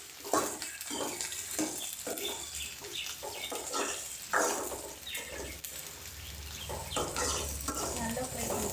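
Brinjal pieces fry in oil with salt, chili powder and turmeric, crackling steadily with repeated scrapes and stirring knocks of a spoon in the pan, close and moderately loud.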